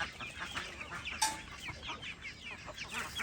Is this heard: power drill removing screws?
no